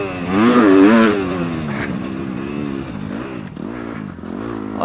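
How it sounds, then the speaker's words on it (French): A Kawasaki 250 KX motocross bike engine revs hard, rising to a loud peak early, then settling into a steady, throaty idle with small throttle blips. "on est vraiment dans l'essai de la moto de puriste à mort"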